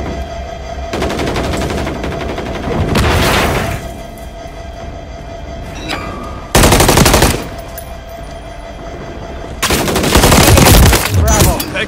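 Rapid automatic machine-gun fire in the video game Call of Duty Modern Warfare III, loud close bursts in several separate volleys over a continuous droning battle background.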